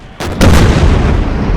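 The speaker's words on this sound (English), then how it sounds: "He survived getting shot by a cannon." A cannon fires once with a loud close boom, and the blast's rumble lingers heavily to the end.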